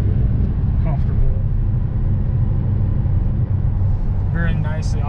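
A 2009 Dodge Challenger SRT8 with its 6.1-liter V8 gives a steady, deep exhaust growl and rumble from inside the car, with a few faint voices over it.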